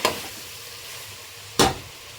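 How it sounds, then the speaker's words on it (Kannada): Masala frying in a pan for chicken biryani with avarekalu, a steady sizzle broken by two sharp spatula scrapes, one at the start and one near the end. "ಈಗ ಸ್ವಲ್ಪ ಹಸಿ ವಾಸನೆ ಹೋಗೋವರೆಗೂ ಈ ರೀತಿ ಫ್ರೈ ಮಾಡ್ಕೊಳ್ಳೋಣ"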